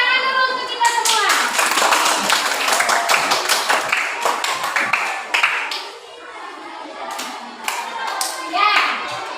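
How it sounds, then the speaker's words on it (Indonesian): A class of children claps together in a loud, fast, uneven patter of hand claps for about five seconds, then keeps going with scattered claps while the kids chatter over it. "Ayo, tepuk tangan dulu untuk kita semua."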